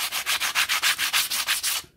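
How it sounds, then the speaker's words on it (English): Brisk back-and-forth sanding with coarse 60 grit sandpaper, about a dozen even rhythmic strokes, close and alone, ending abruptly. "That's 60 grit."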